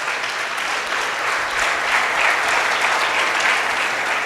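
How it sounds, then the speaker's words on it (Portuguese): A church congregation breaks into steady, loud applause, many hands clapping densely and evenly for several seconds, with no voices standing out over it. "Pode aplaudir ao Senhor se você quiser."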